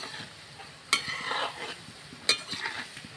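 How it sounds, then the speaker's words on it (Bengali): Cashew nimki frying in oil with a soft, low sizzle, stirred lightly with two sharp utensil knocks against the pan and gentle scraping between them. "হালকা একটু নেড়ে দিচ্ছি"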